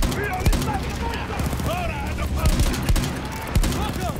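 Rapid gunfire in the World War I shooter Battlefield 1 on an Alpine mountain map, repeated sharp bursts and single cracks over continuous battle noise, with a player's voice talking over it.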